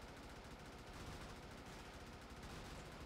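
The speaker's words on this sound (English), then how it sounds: "Okay, we got our auto cannons going pretty good still." Auto cannons fire in the video game Brigador as a dense, continuous rattle of rapid shots, steady and unbroken across the whole stretch, with no talk over it.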